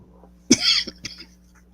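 A person coughs after vape vapour goes down the wrong way: one sharp, harsh cough burst followed by a couple of smaller throat-clearing hacks, close and dry against a faint low hum.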